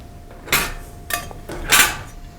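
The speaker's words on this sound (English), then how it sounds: "These just push, click, and they're fitted." A Legrand Salamandre IP4X trunking quick-fit lid pushed into place, giving three sharp plastic clicks spaced about half a second apart, close up and alone.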